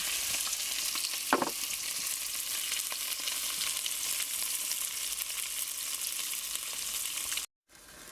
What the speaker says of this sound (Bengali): দেখেন আমি মশলা কষাচ্ছি